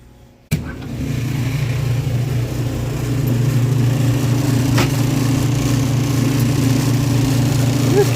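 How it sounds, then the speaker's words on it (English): An electric motor, recovered after its assembly nearly flew apart, starts abruptly and then runs steadily with a constant low hum and a faint rattle. Voices can be heard under the hum. "So this is the motor running and it's spinning"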